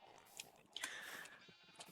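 Sheep bleat in Minecraft, a couple of short, nasal bleats that stand out clearly against quiet background noise, fairly close and at moderate volume.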